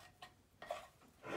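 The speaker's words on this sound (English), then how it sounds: "Here we are, stirring it up" Play-dough mixture stirred in a bowl, a few soft, quiet scrapes and clinks of the utensil against the bowl at an uneven pace.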